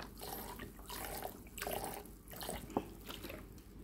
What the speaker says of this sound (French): Je vais remplir ce petit bol de vinaigre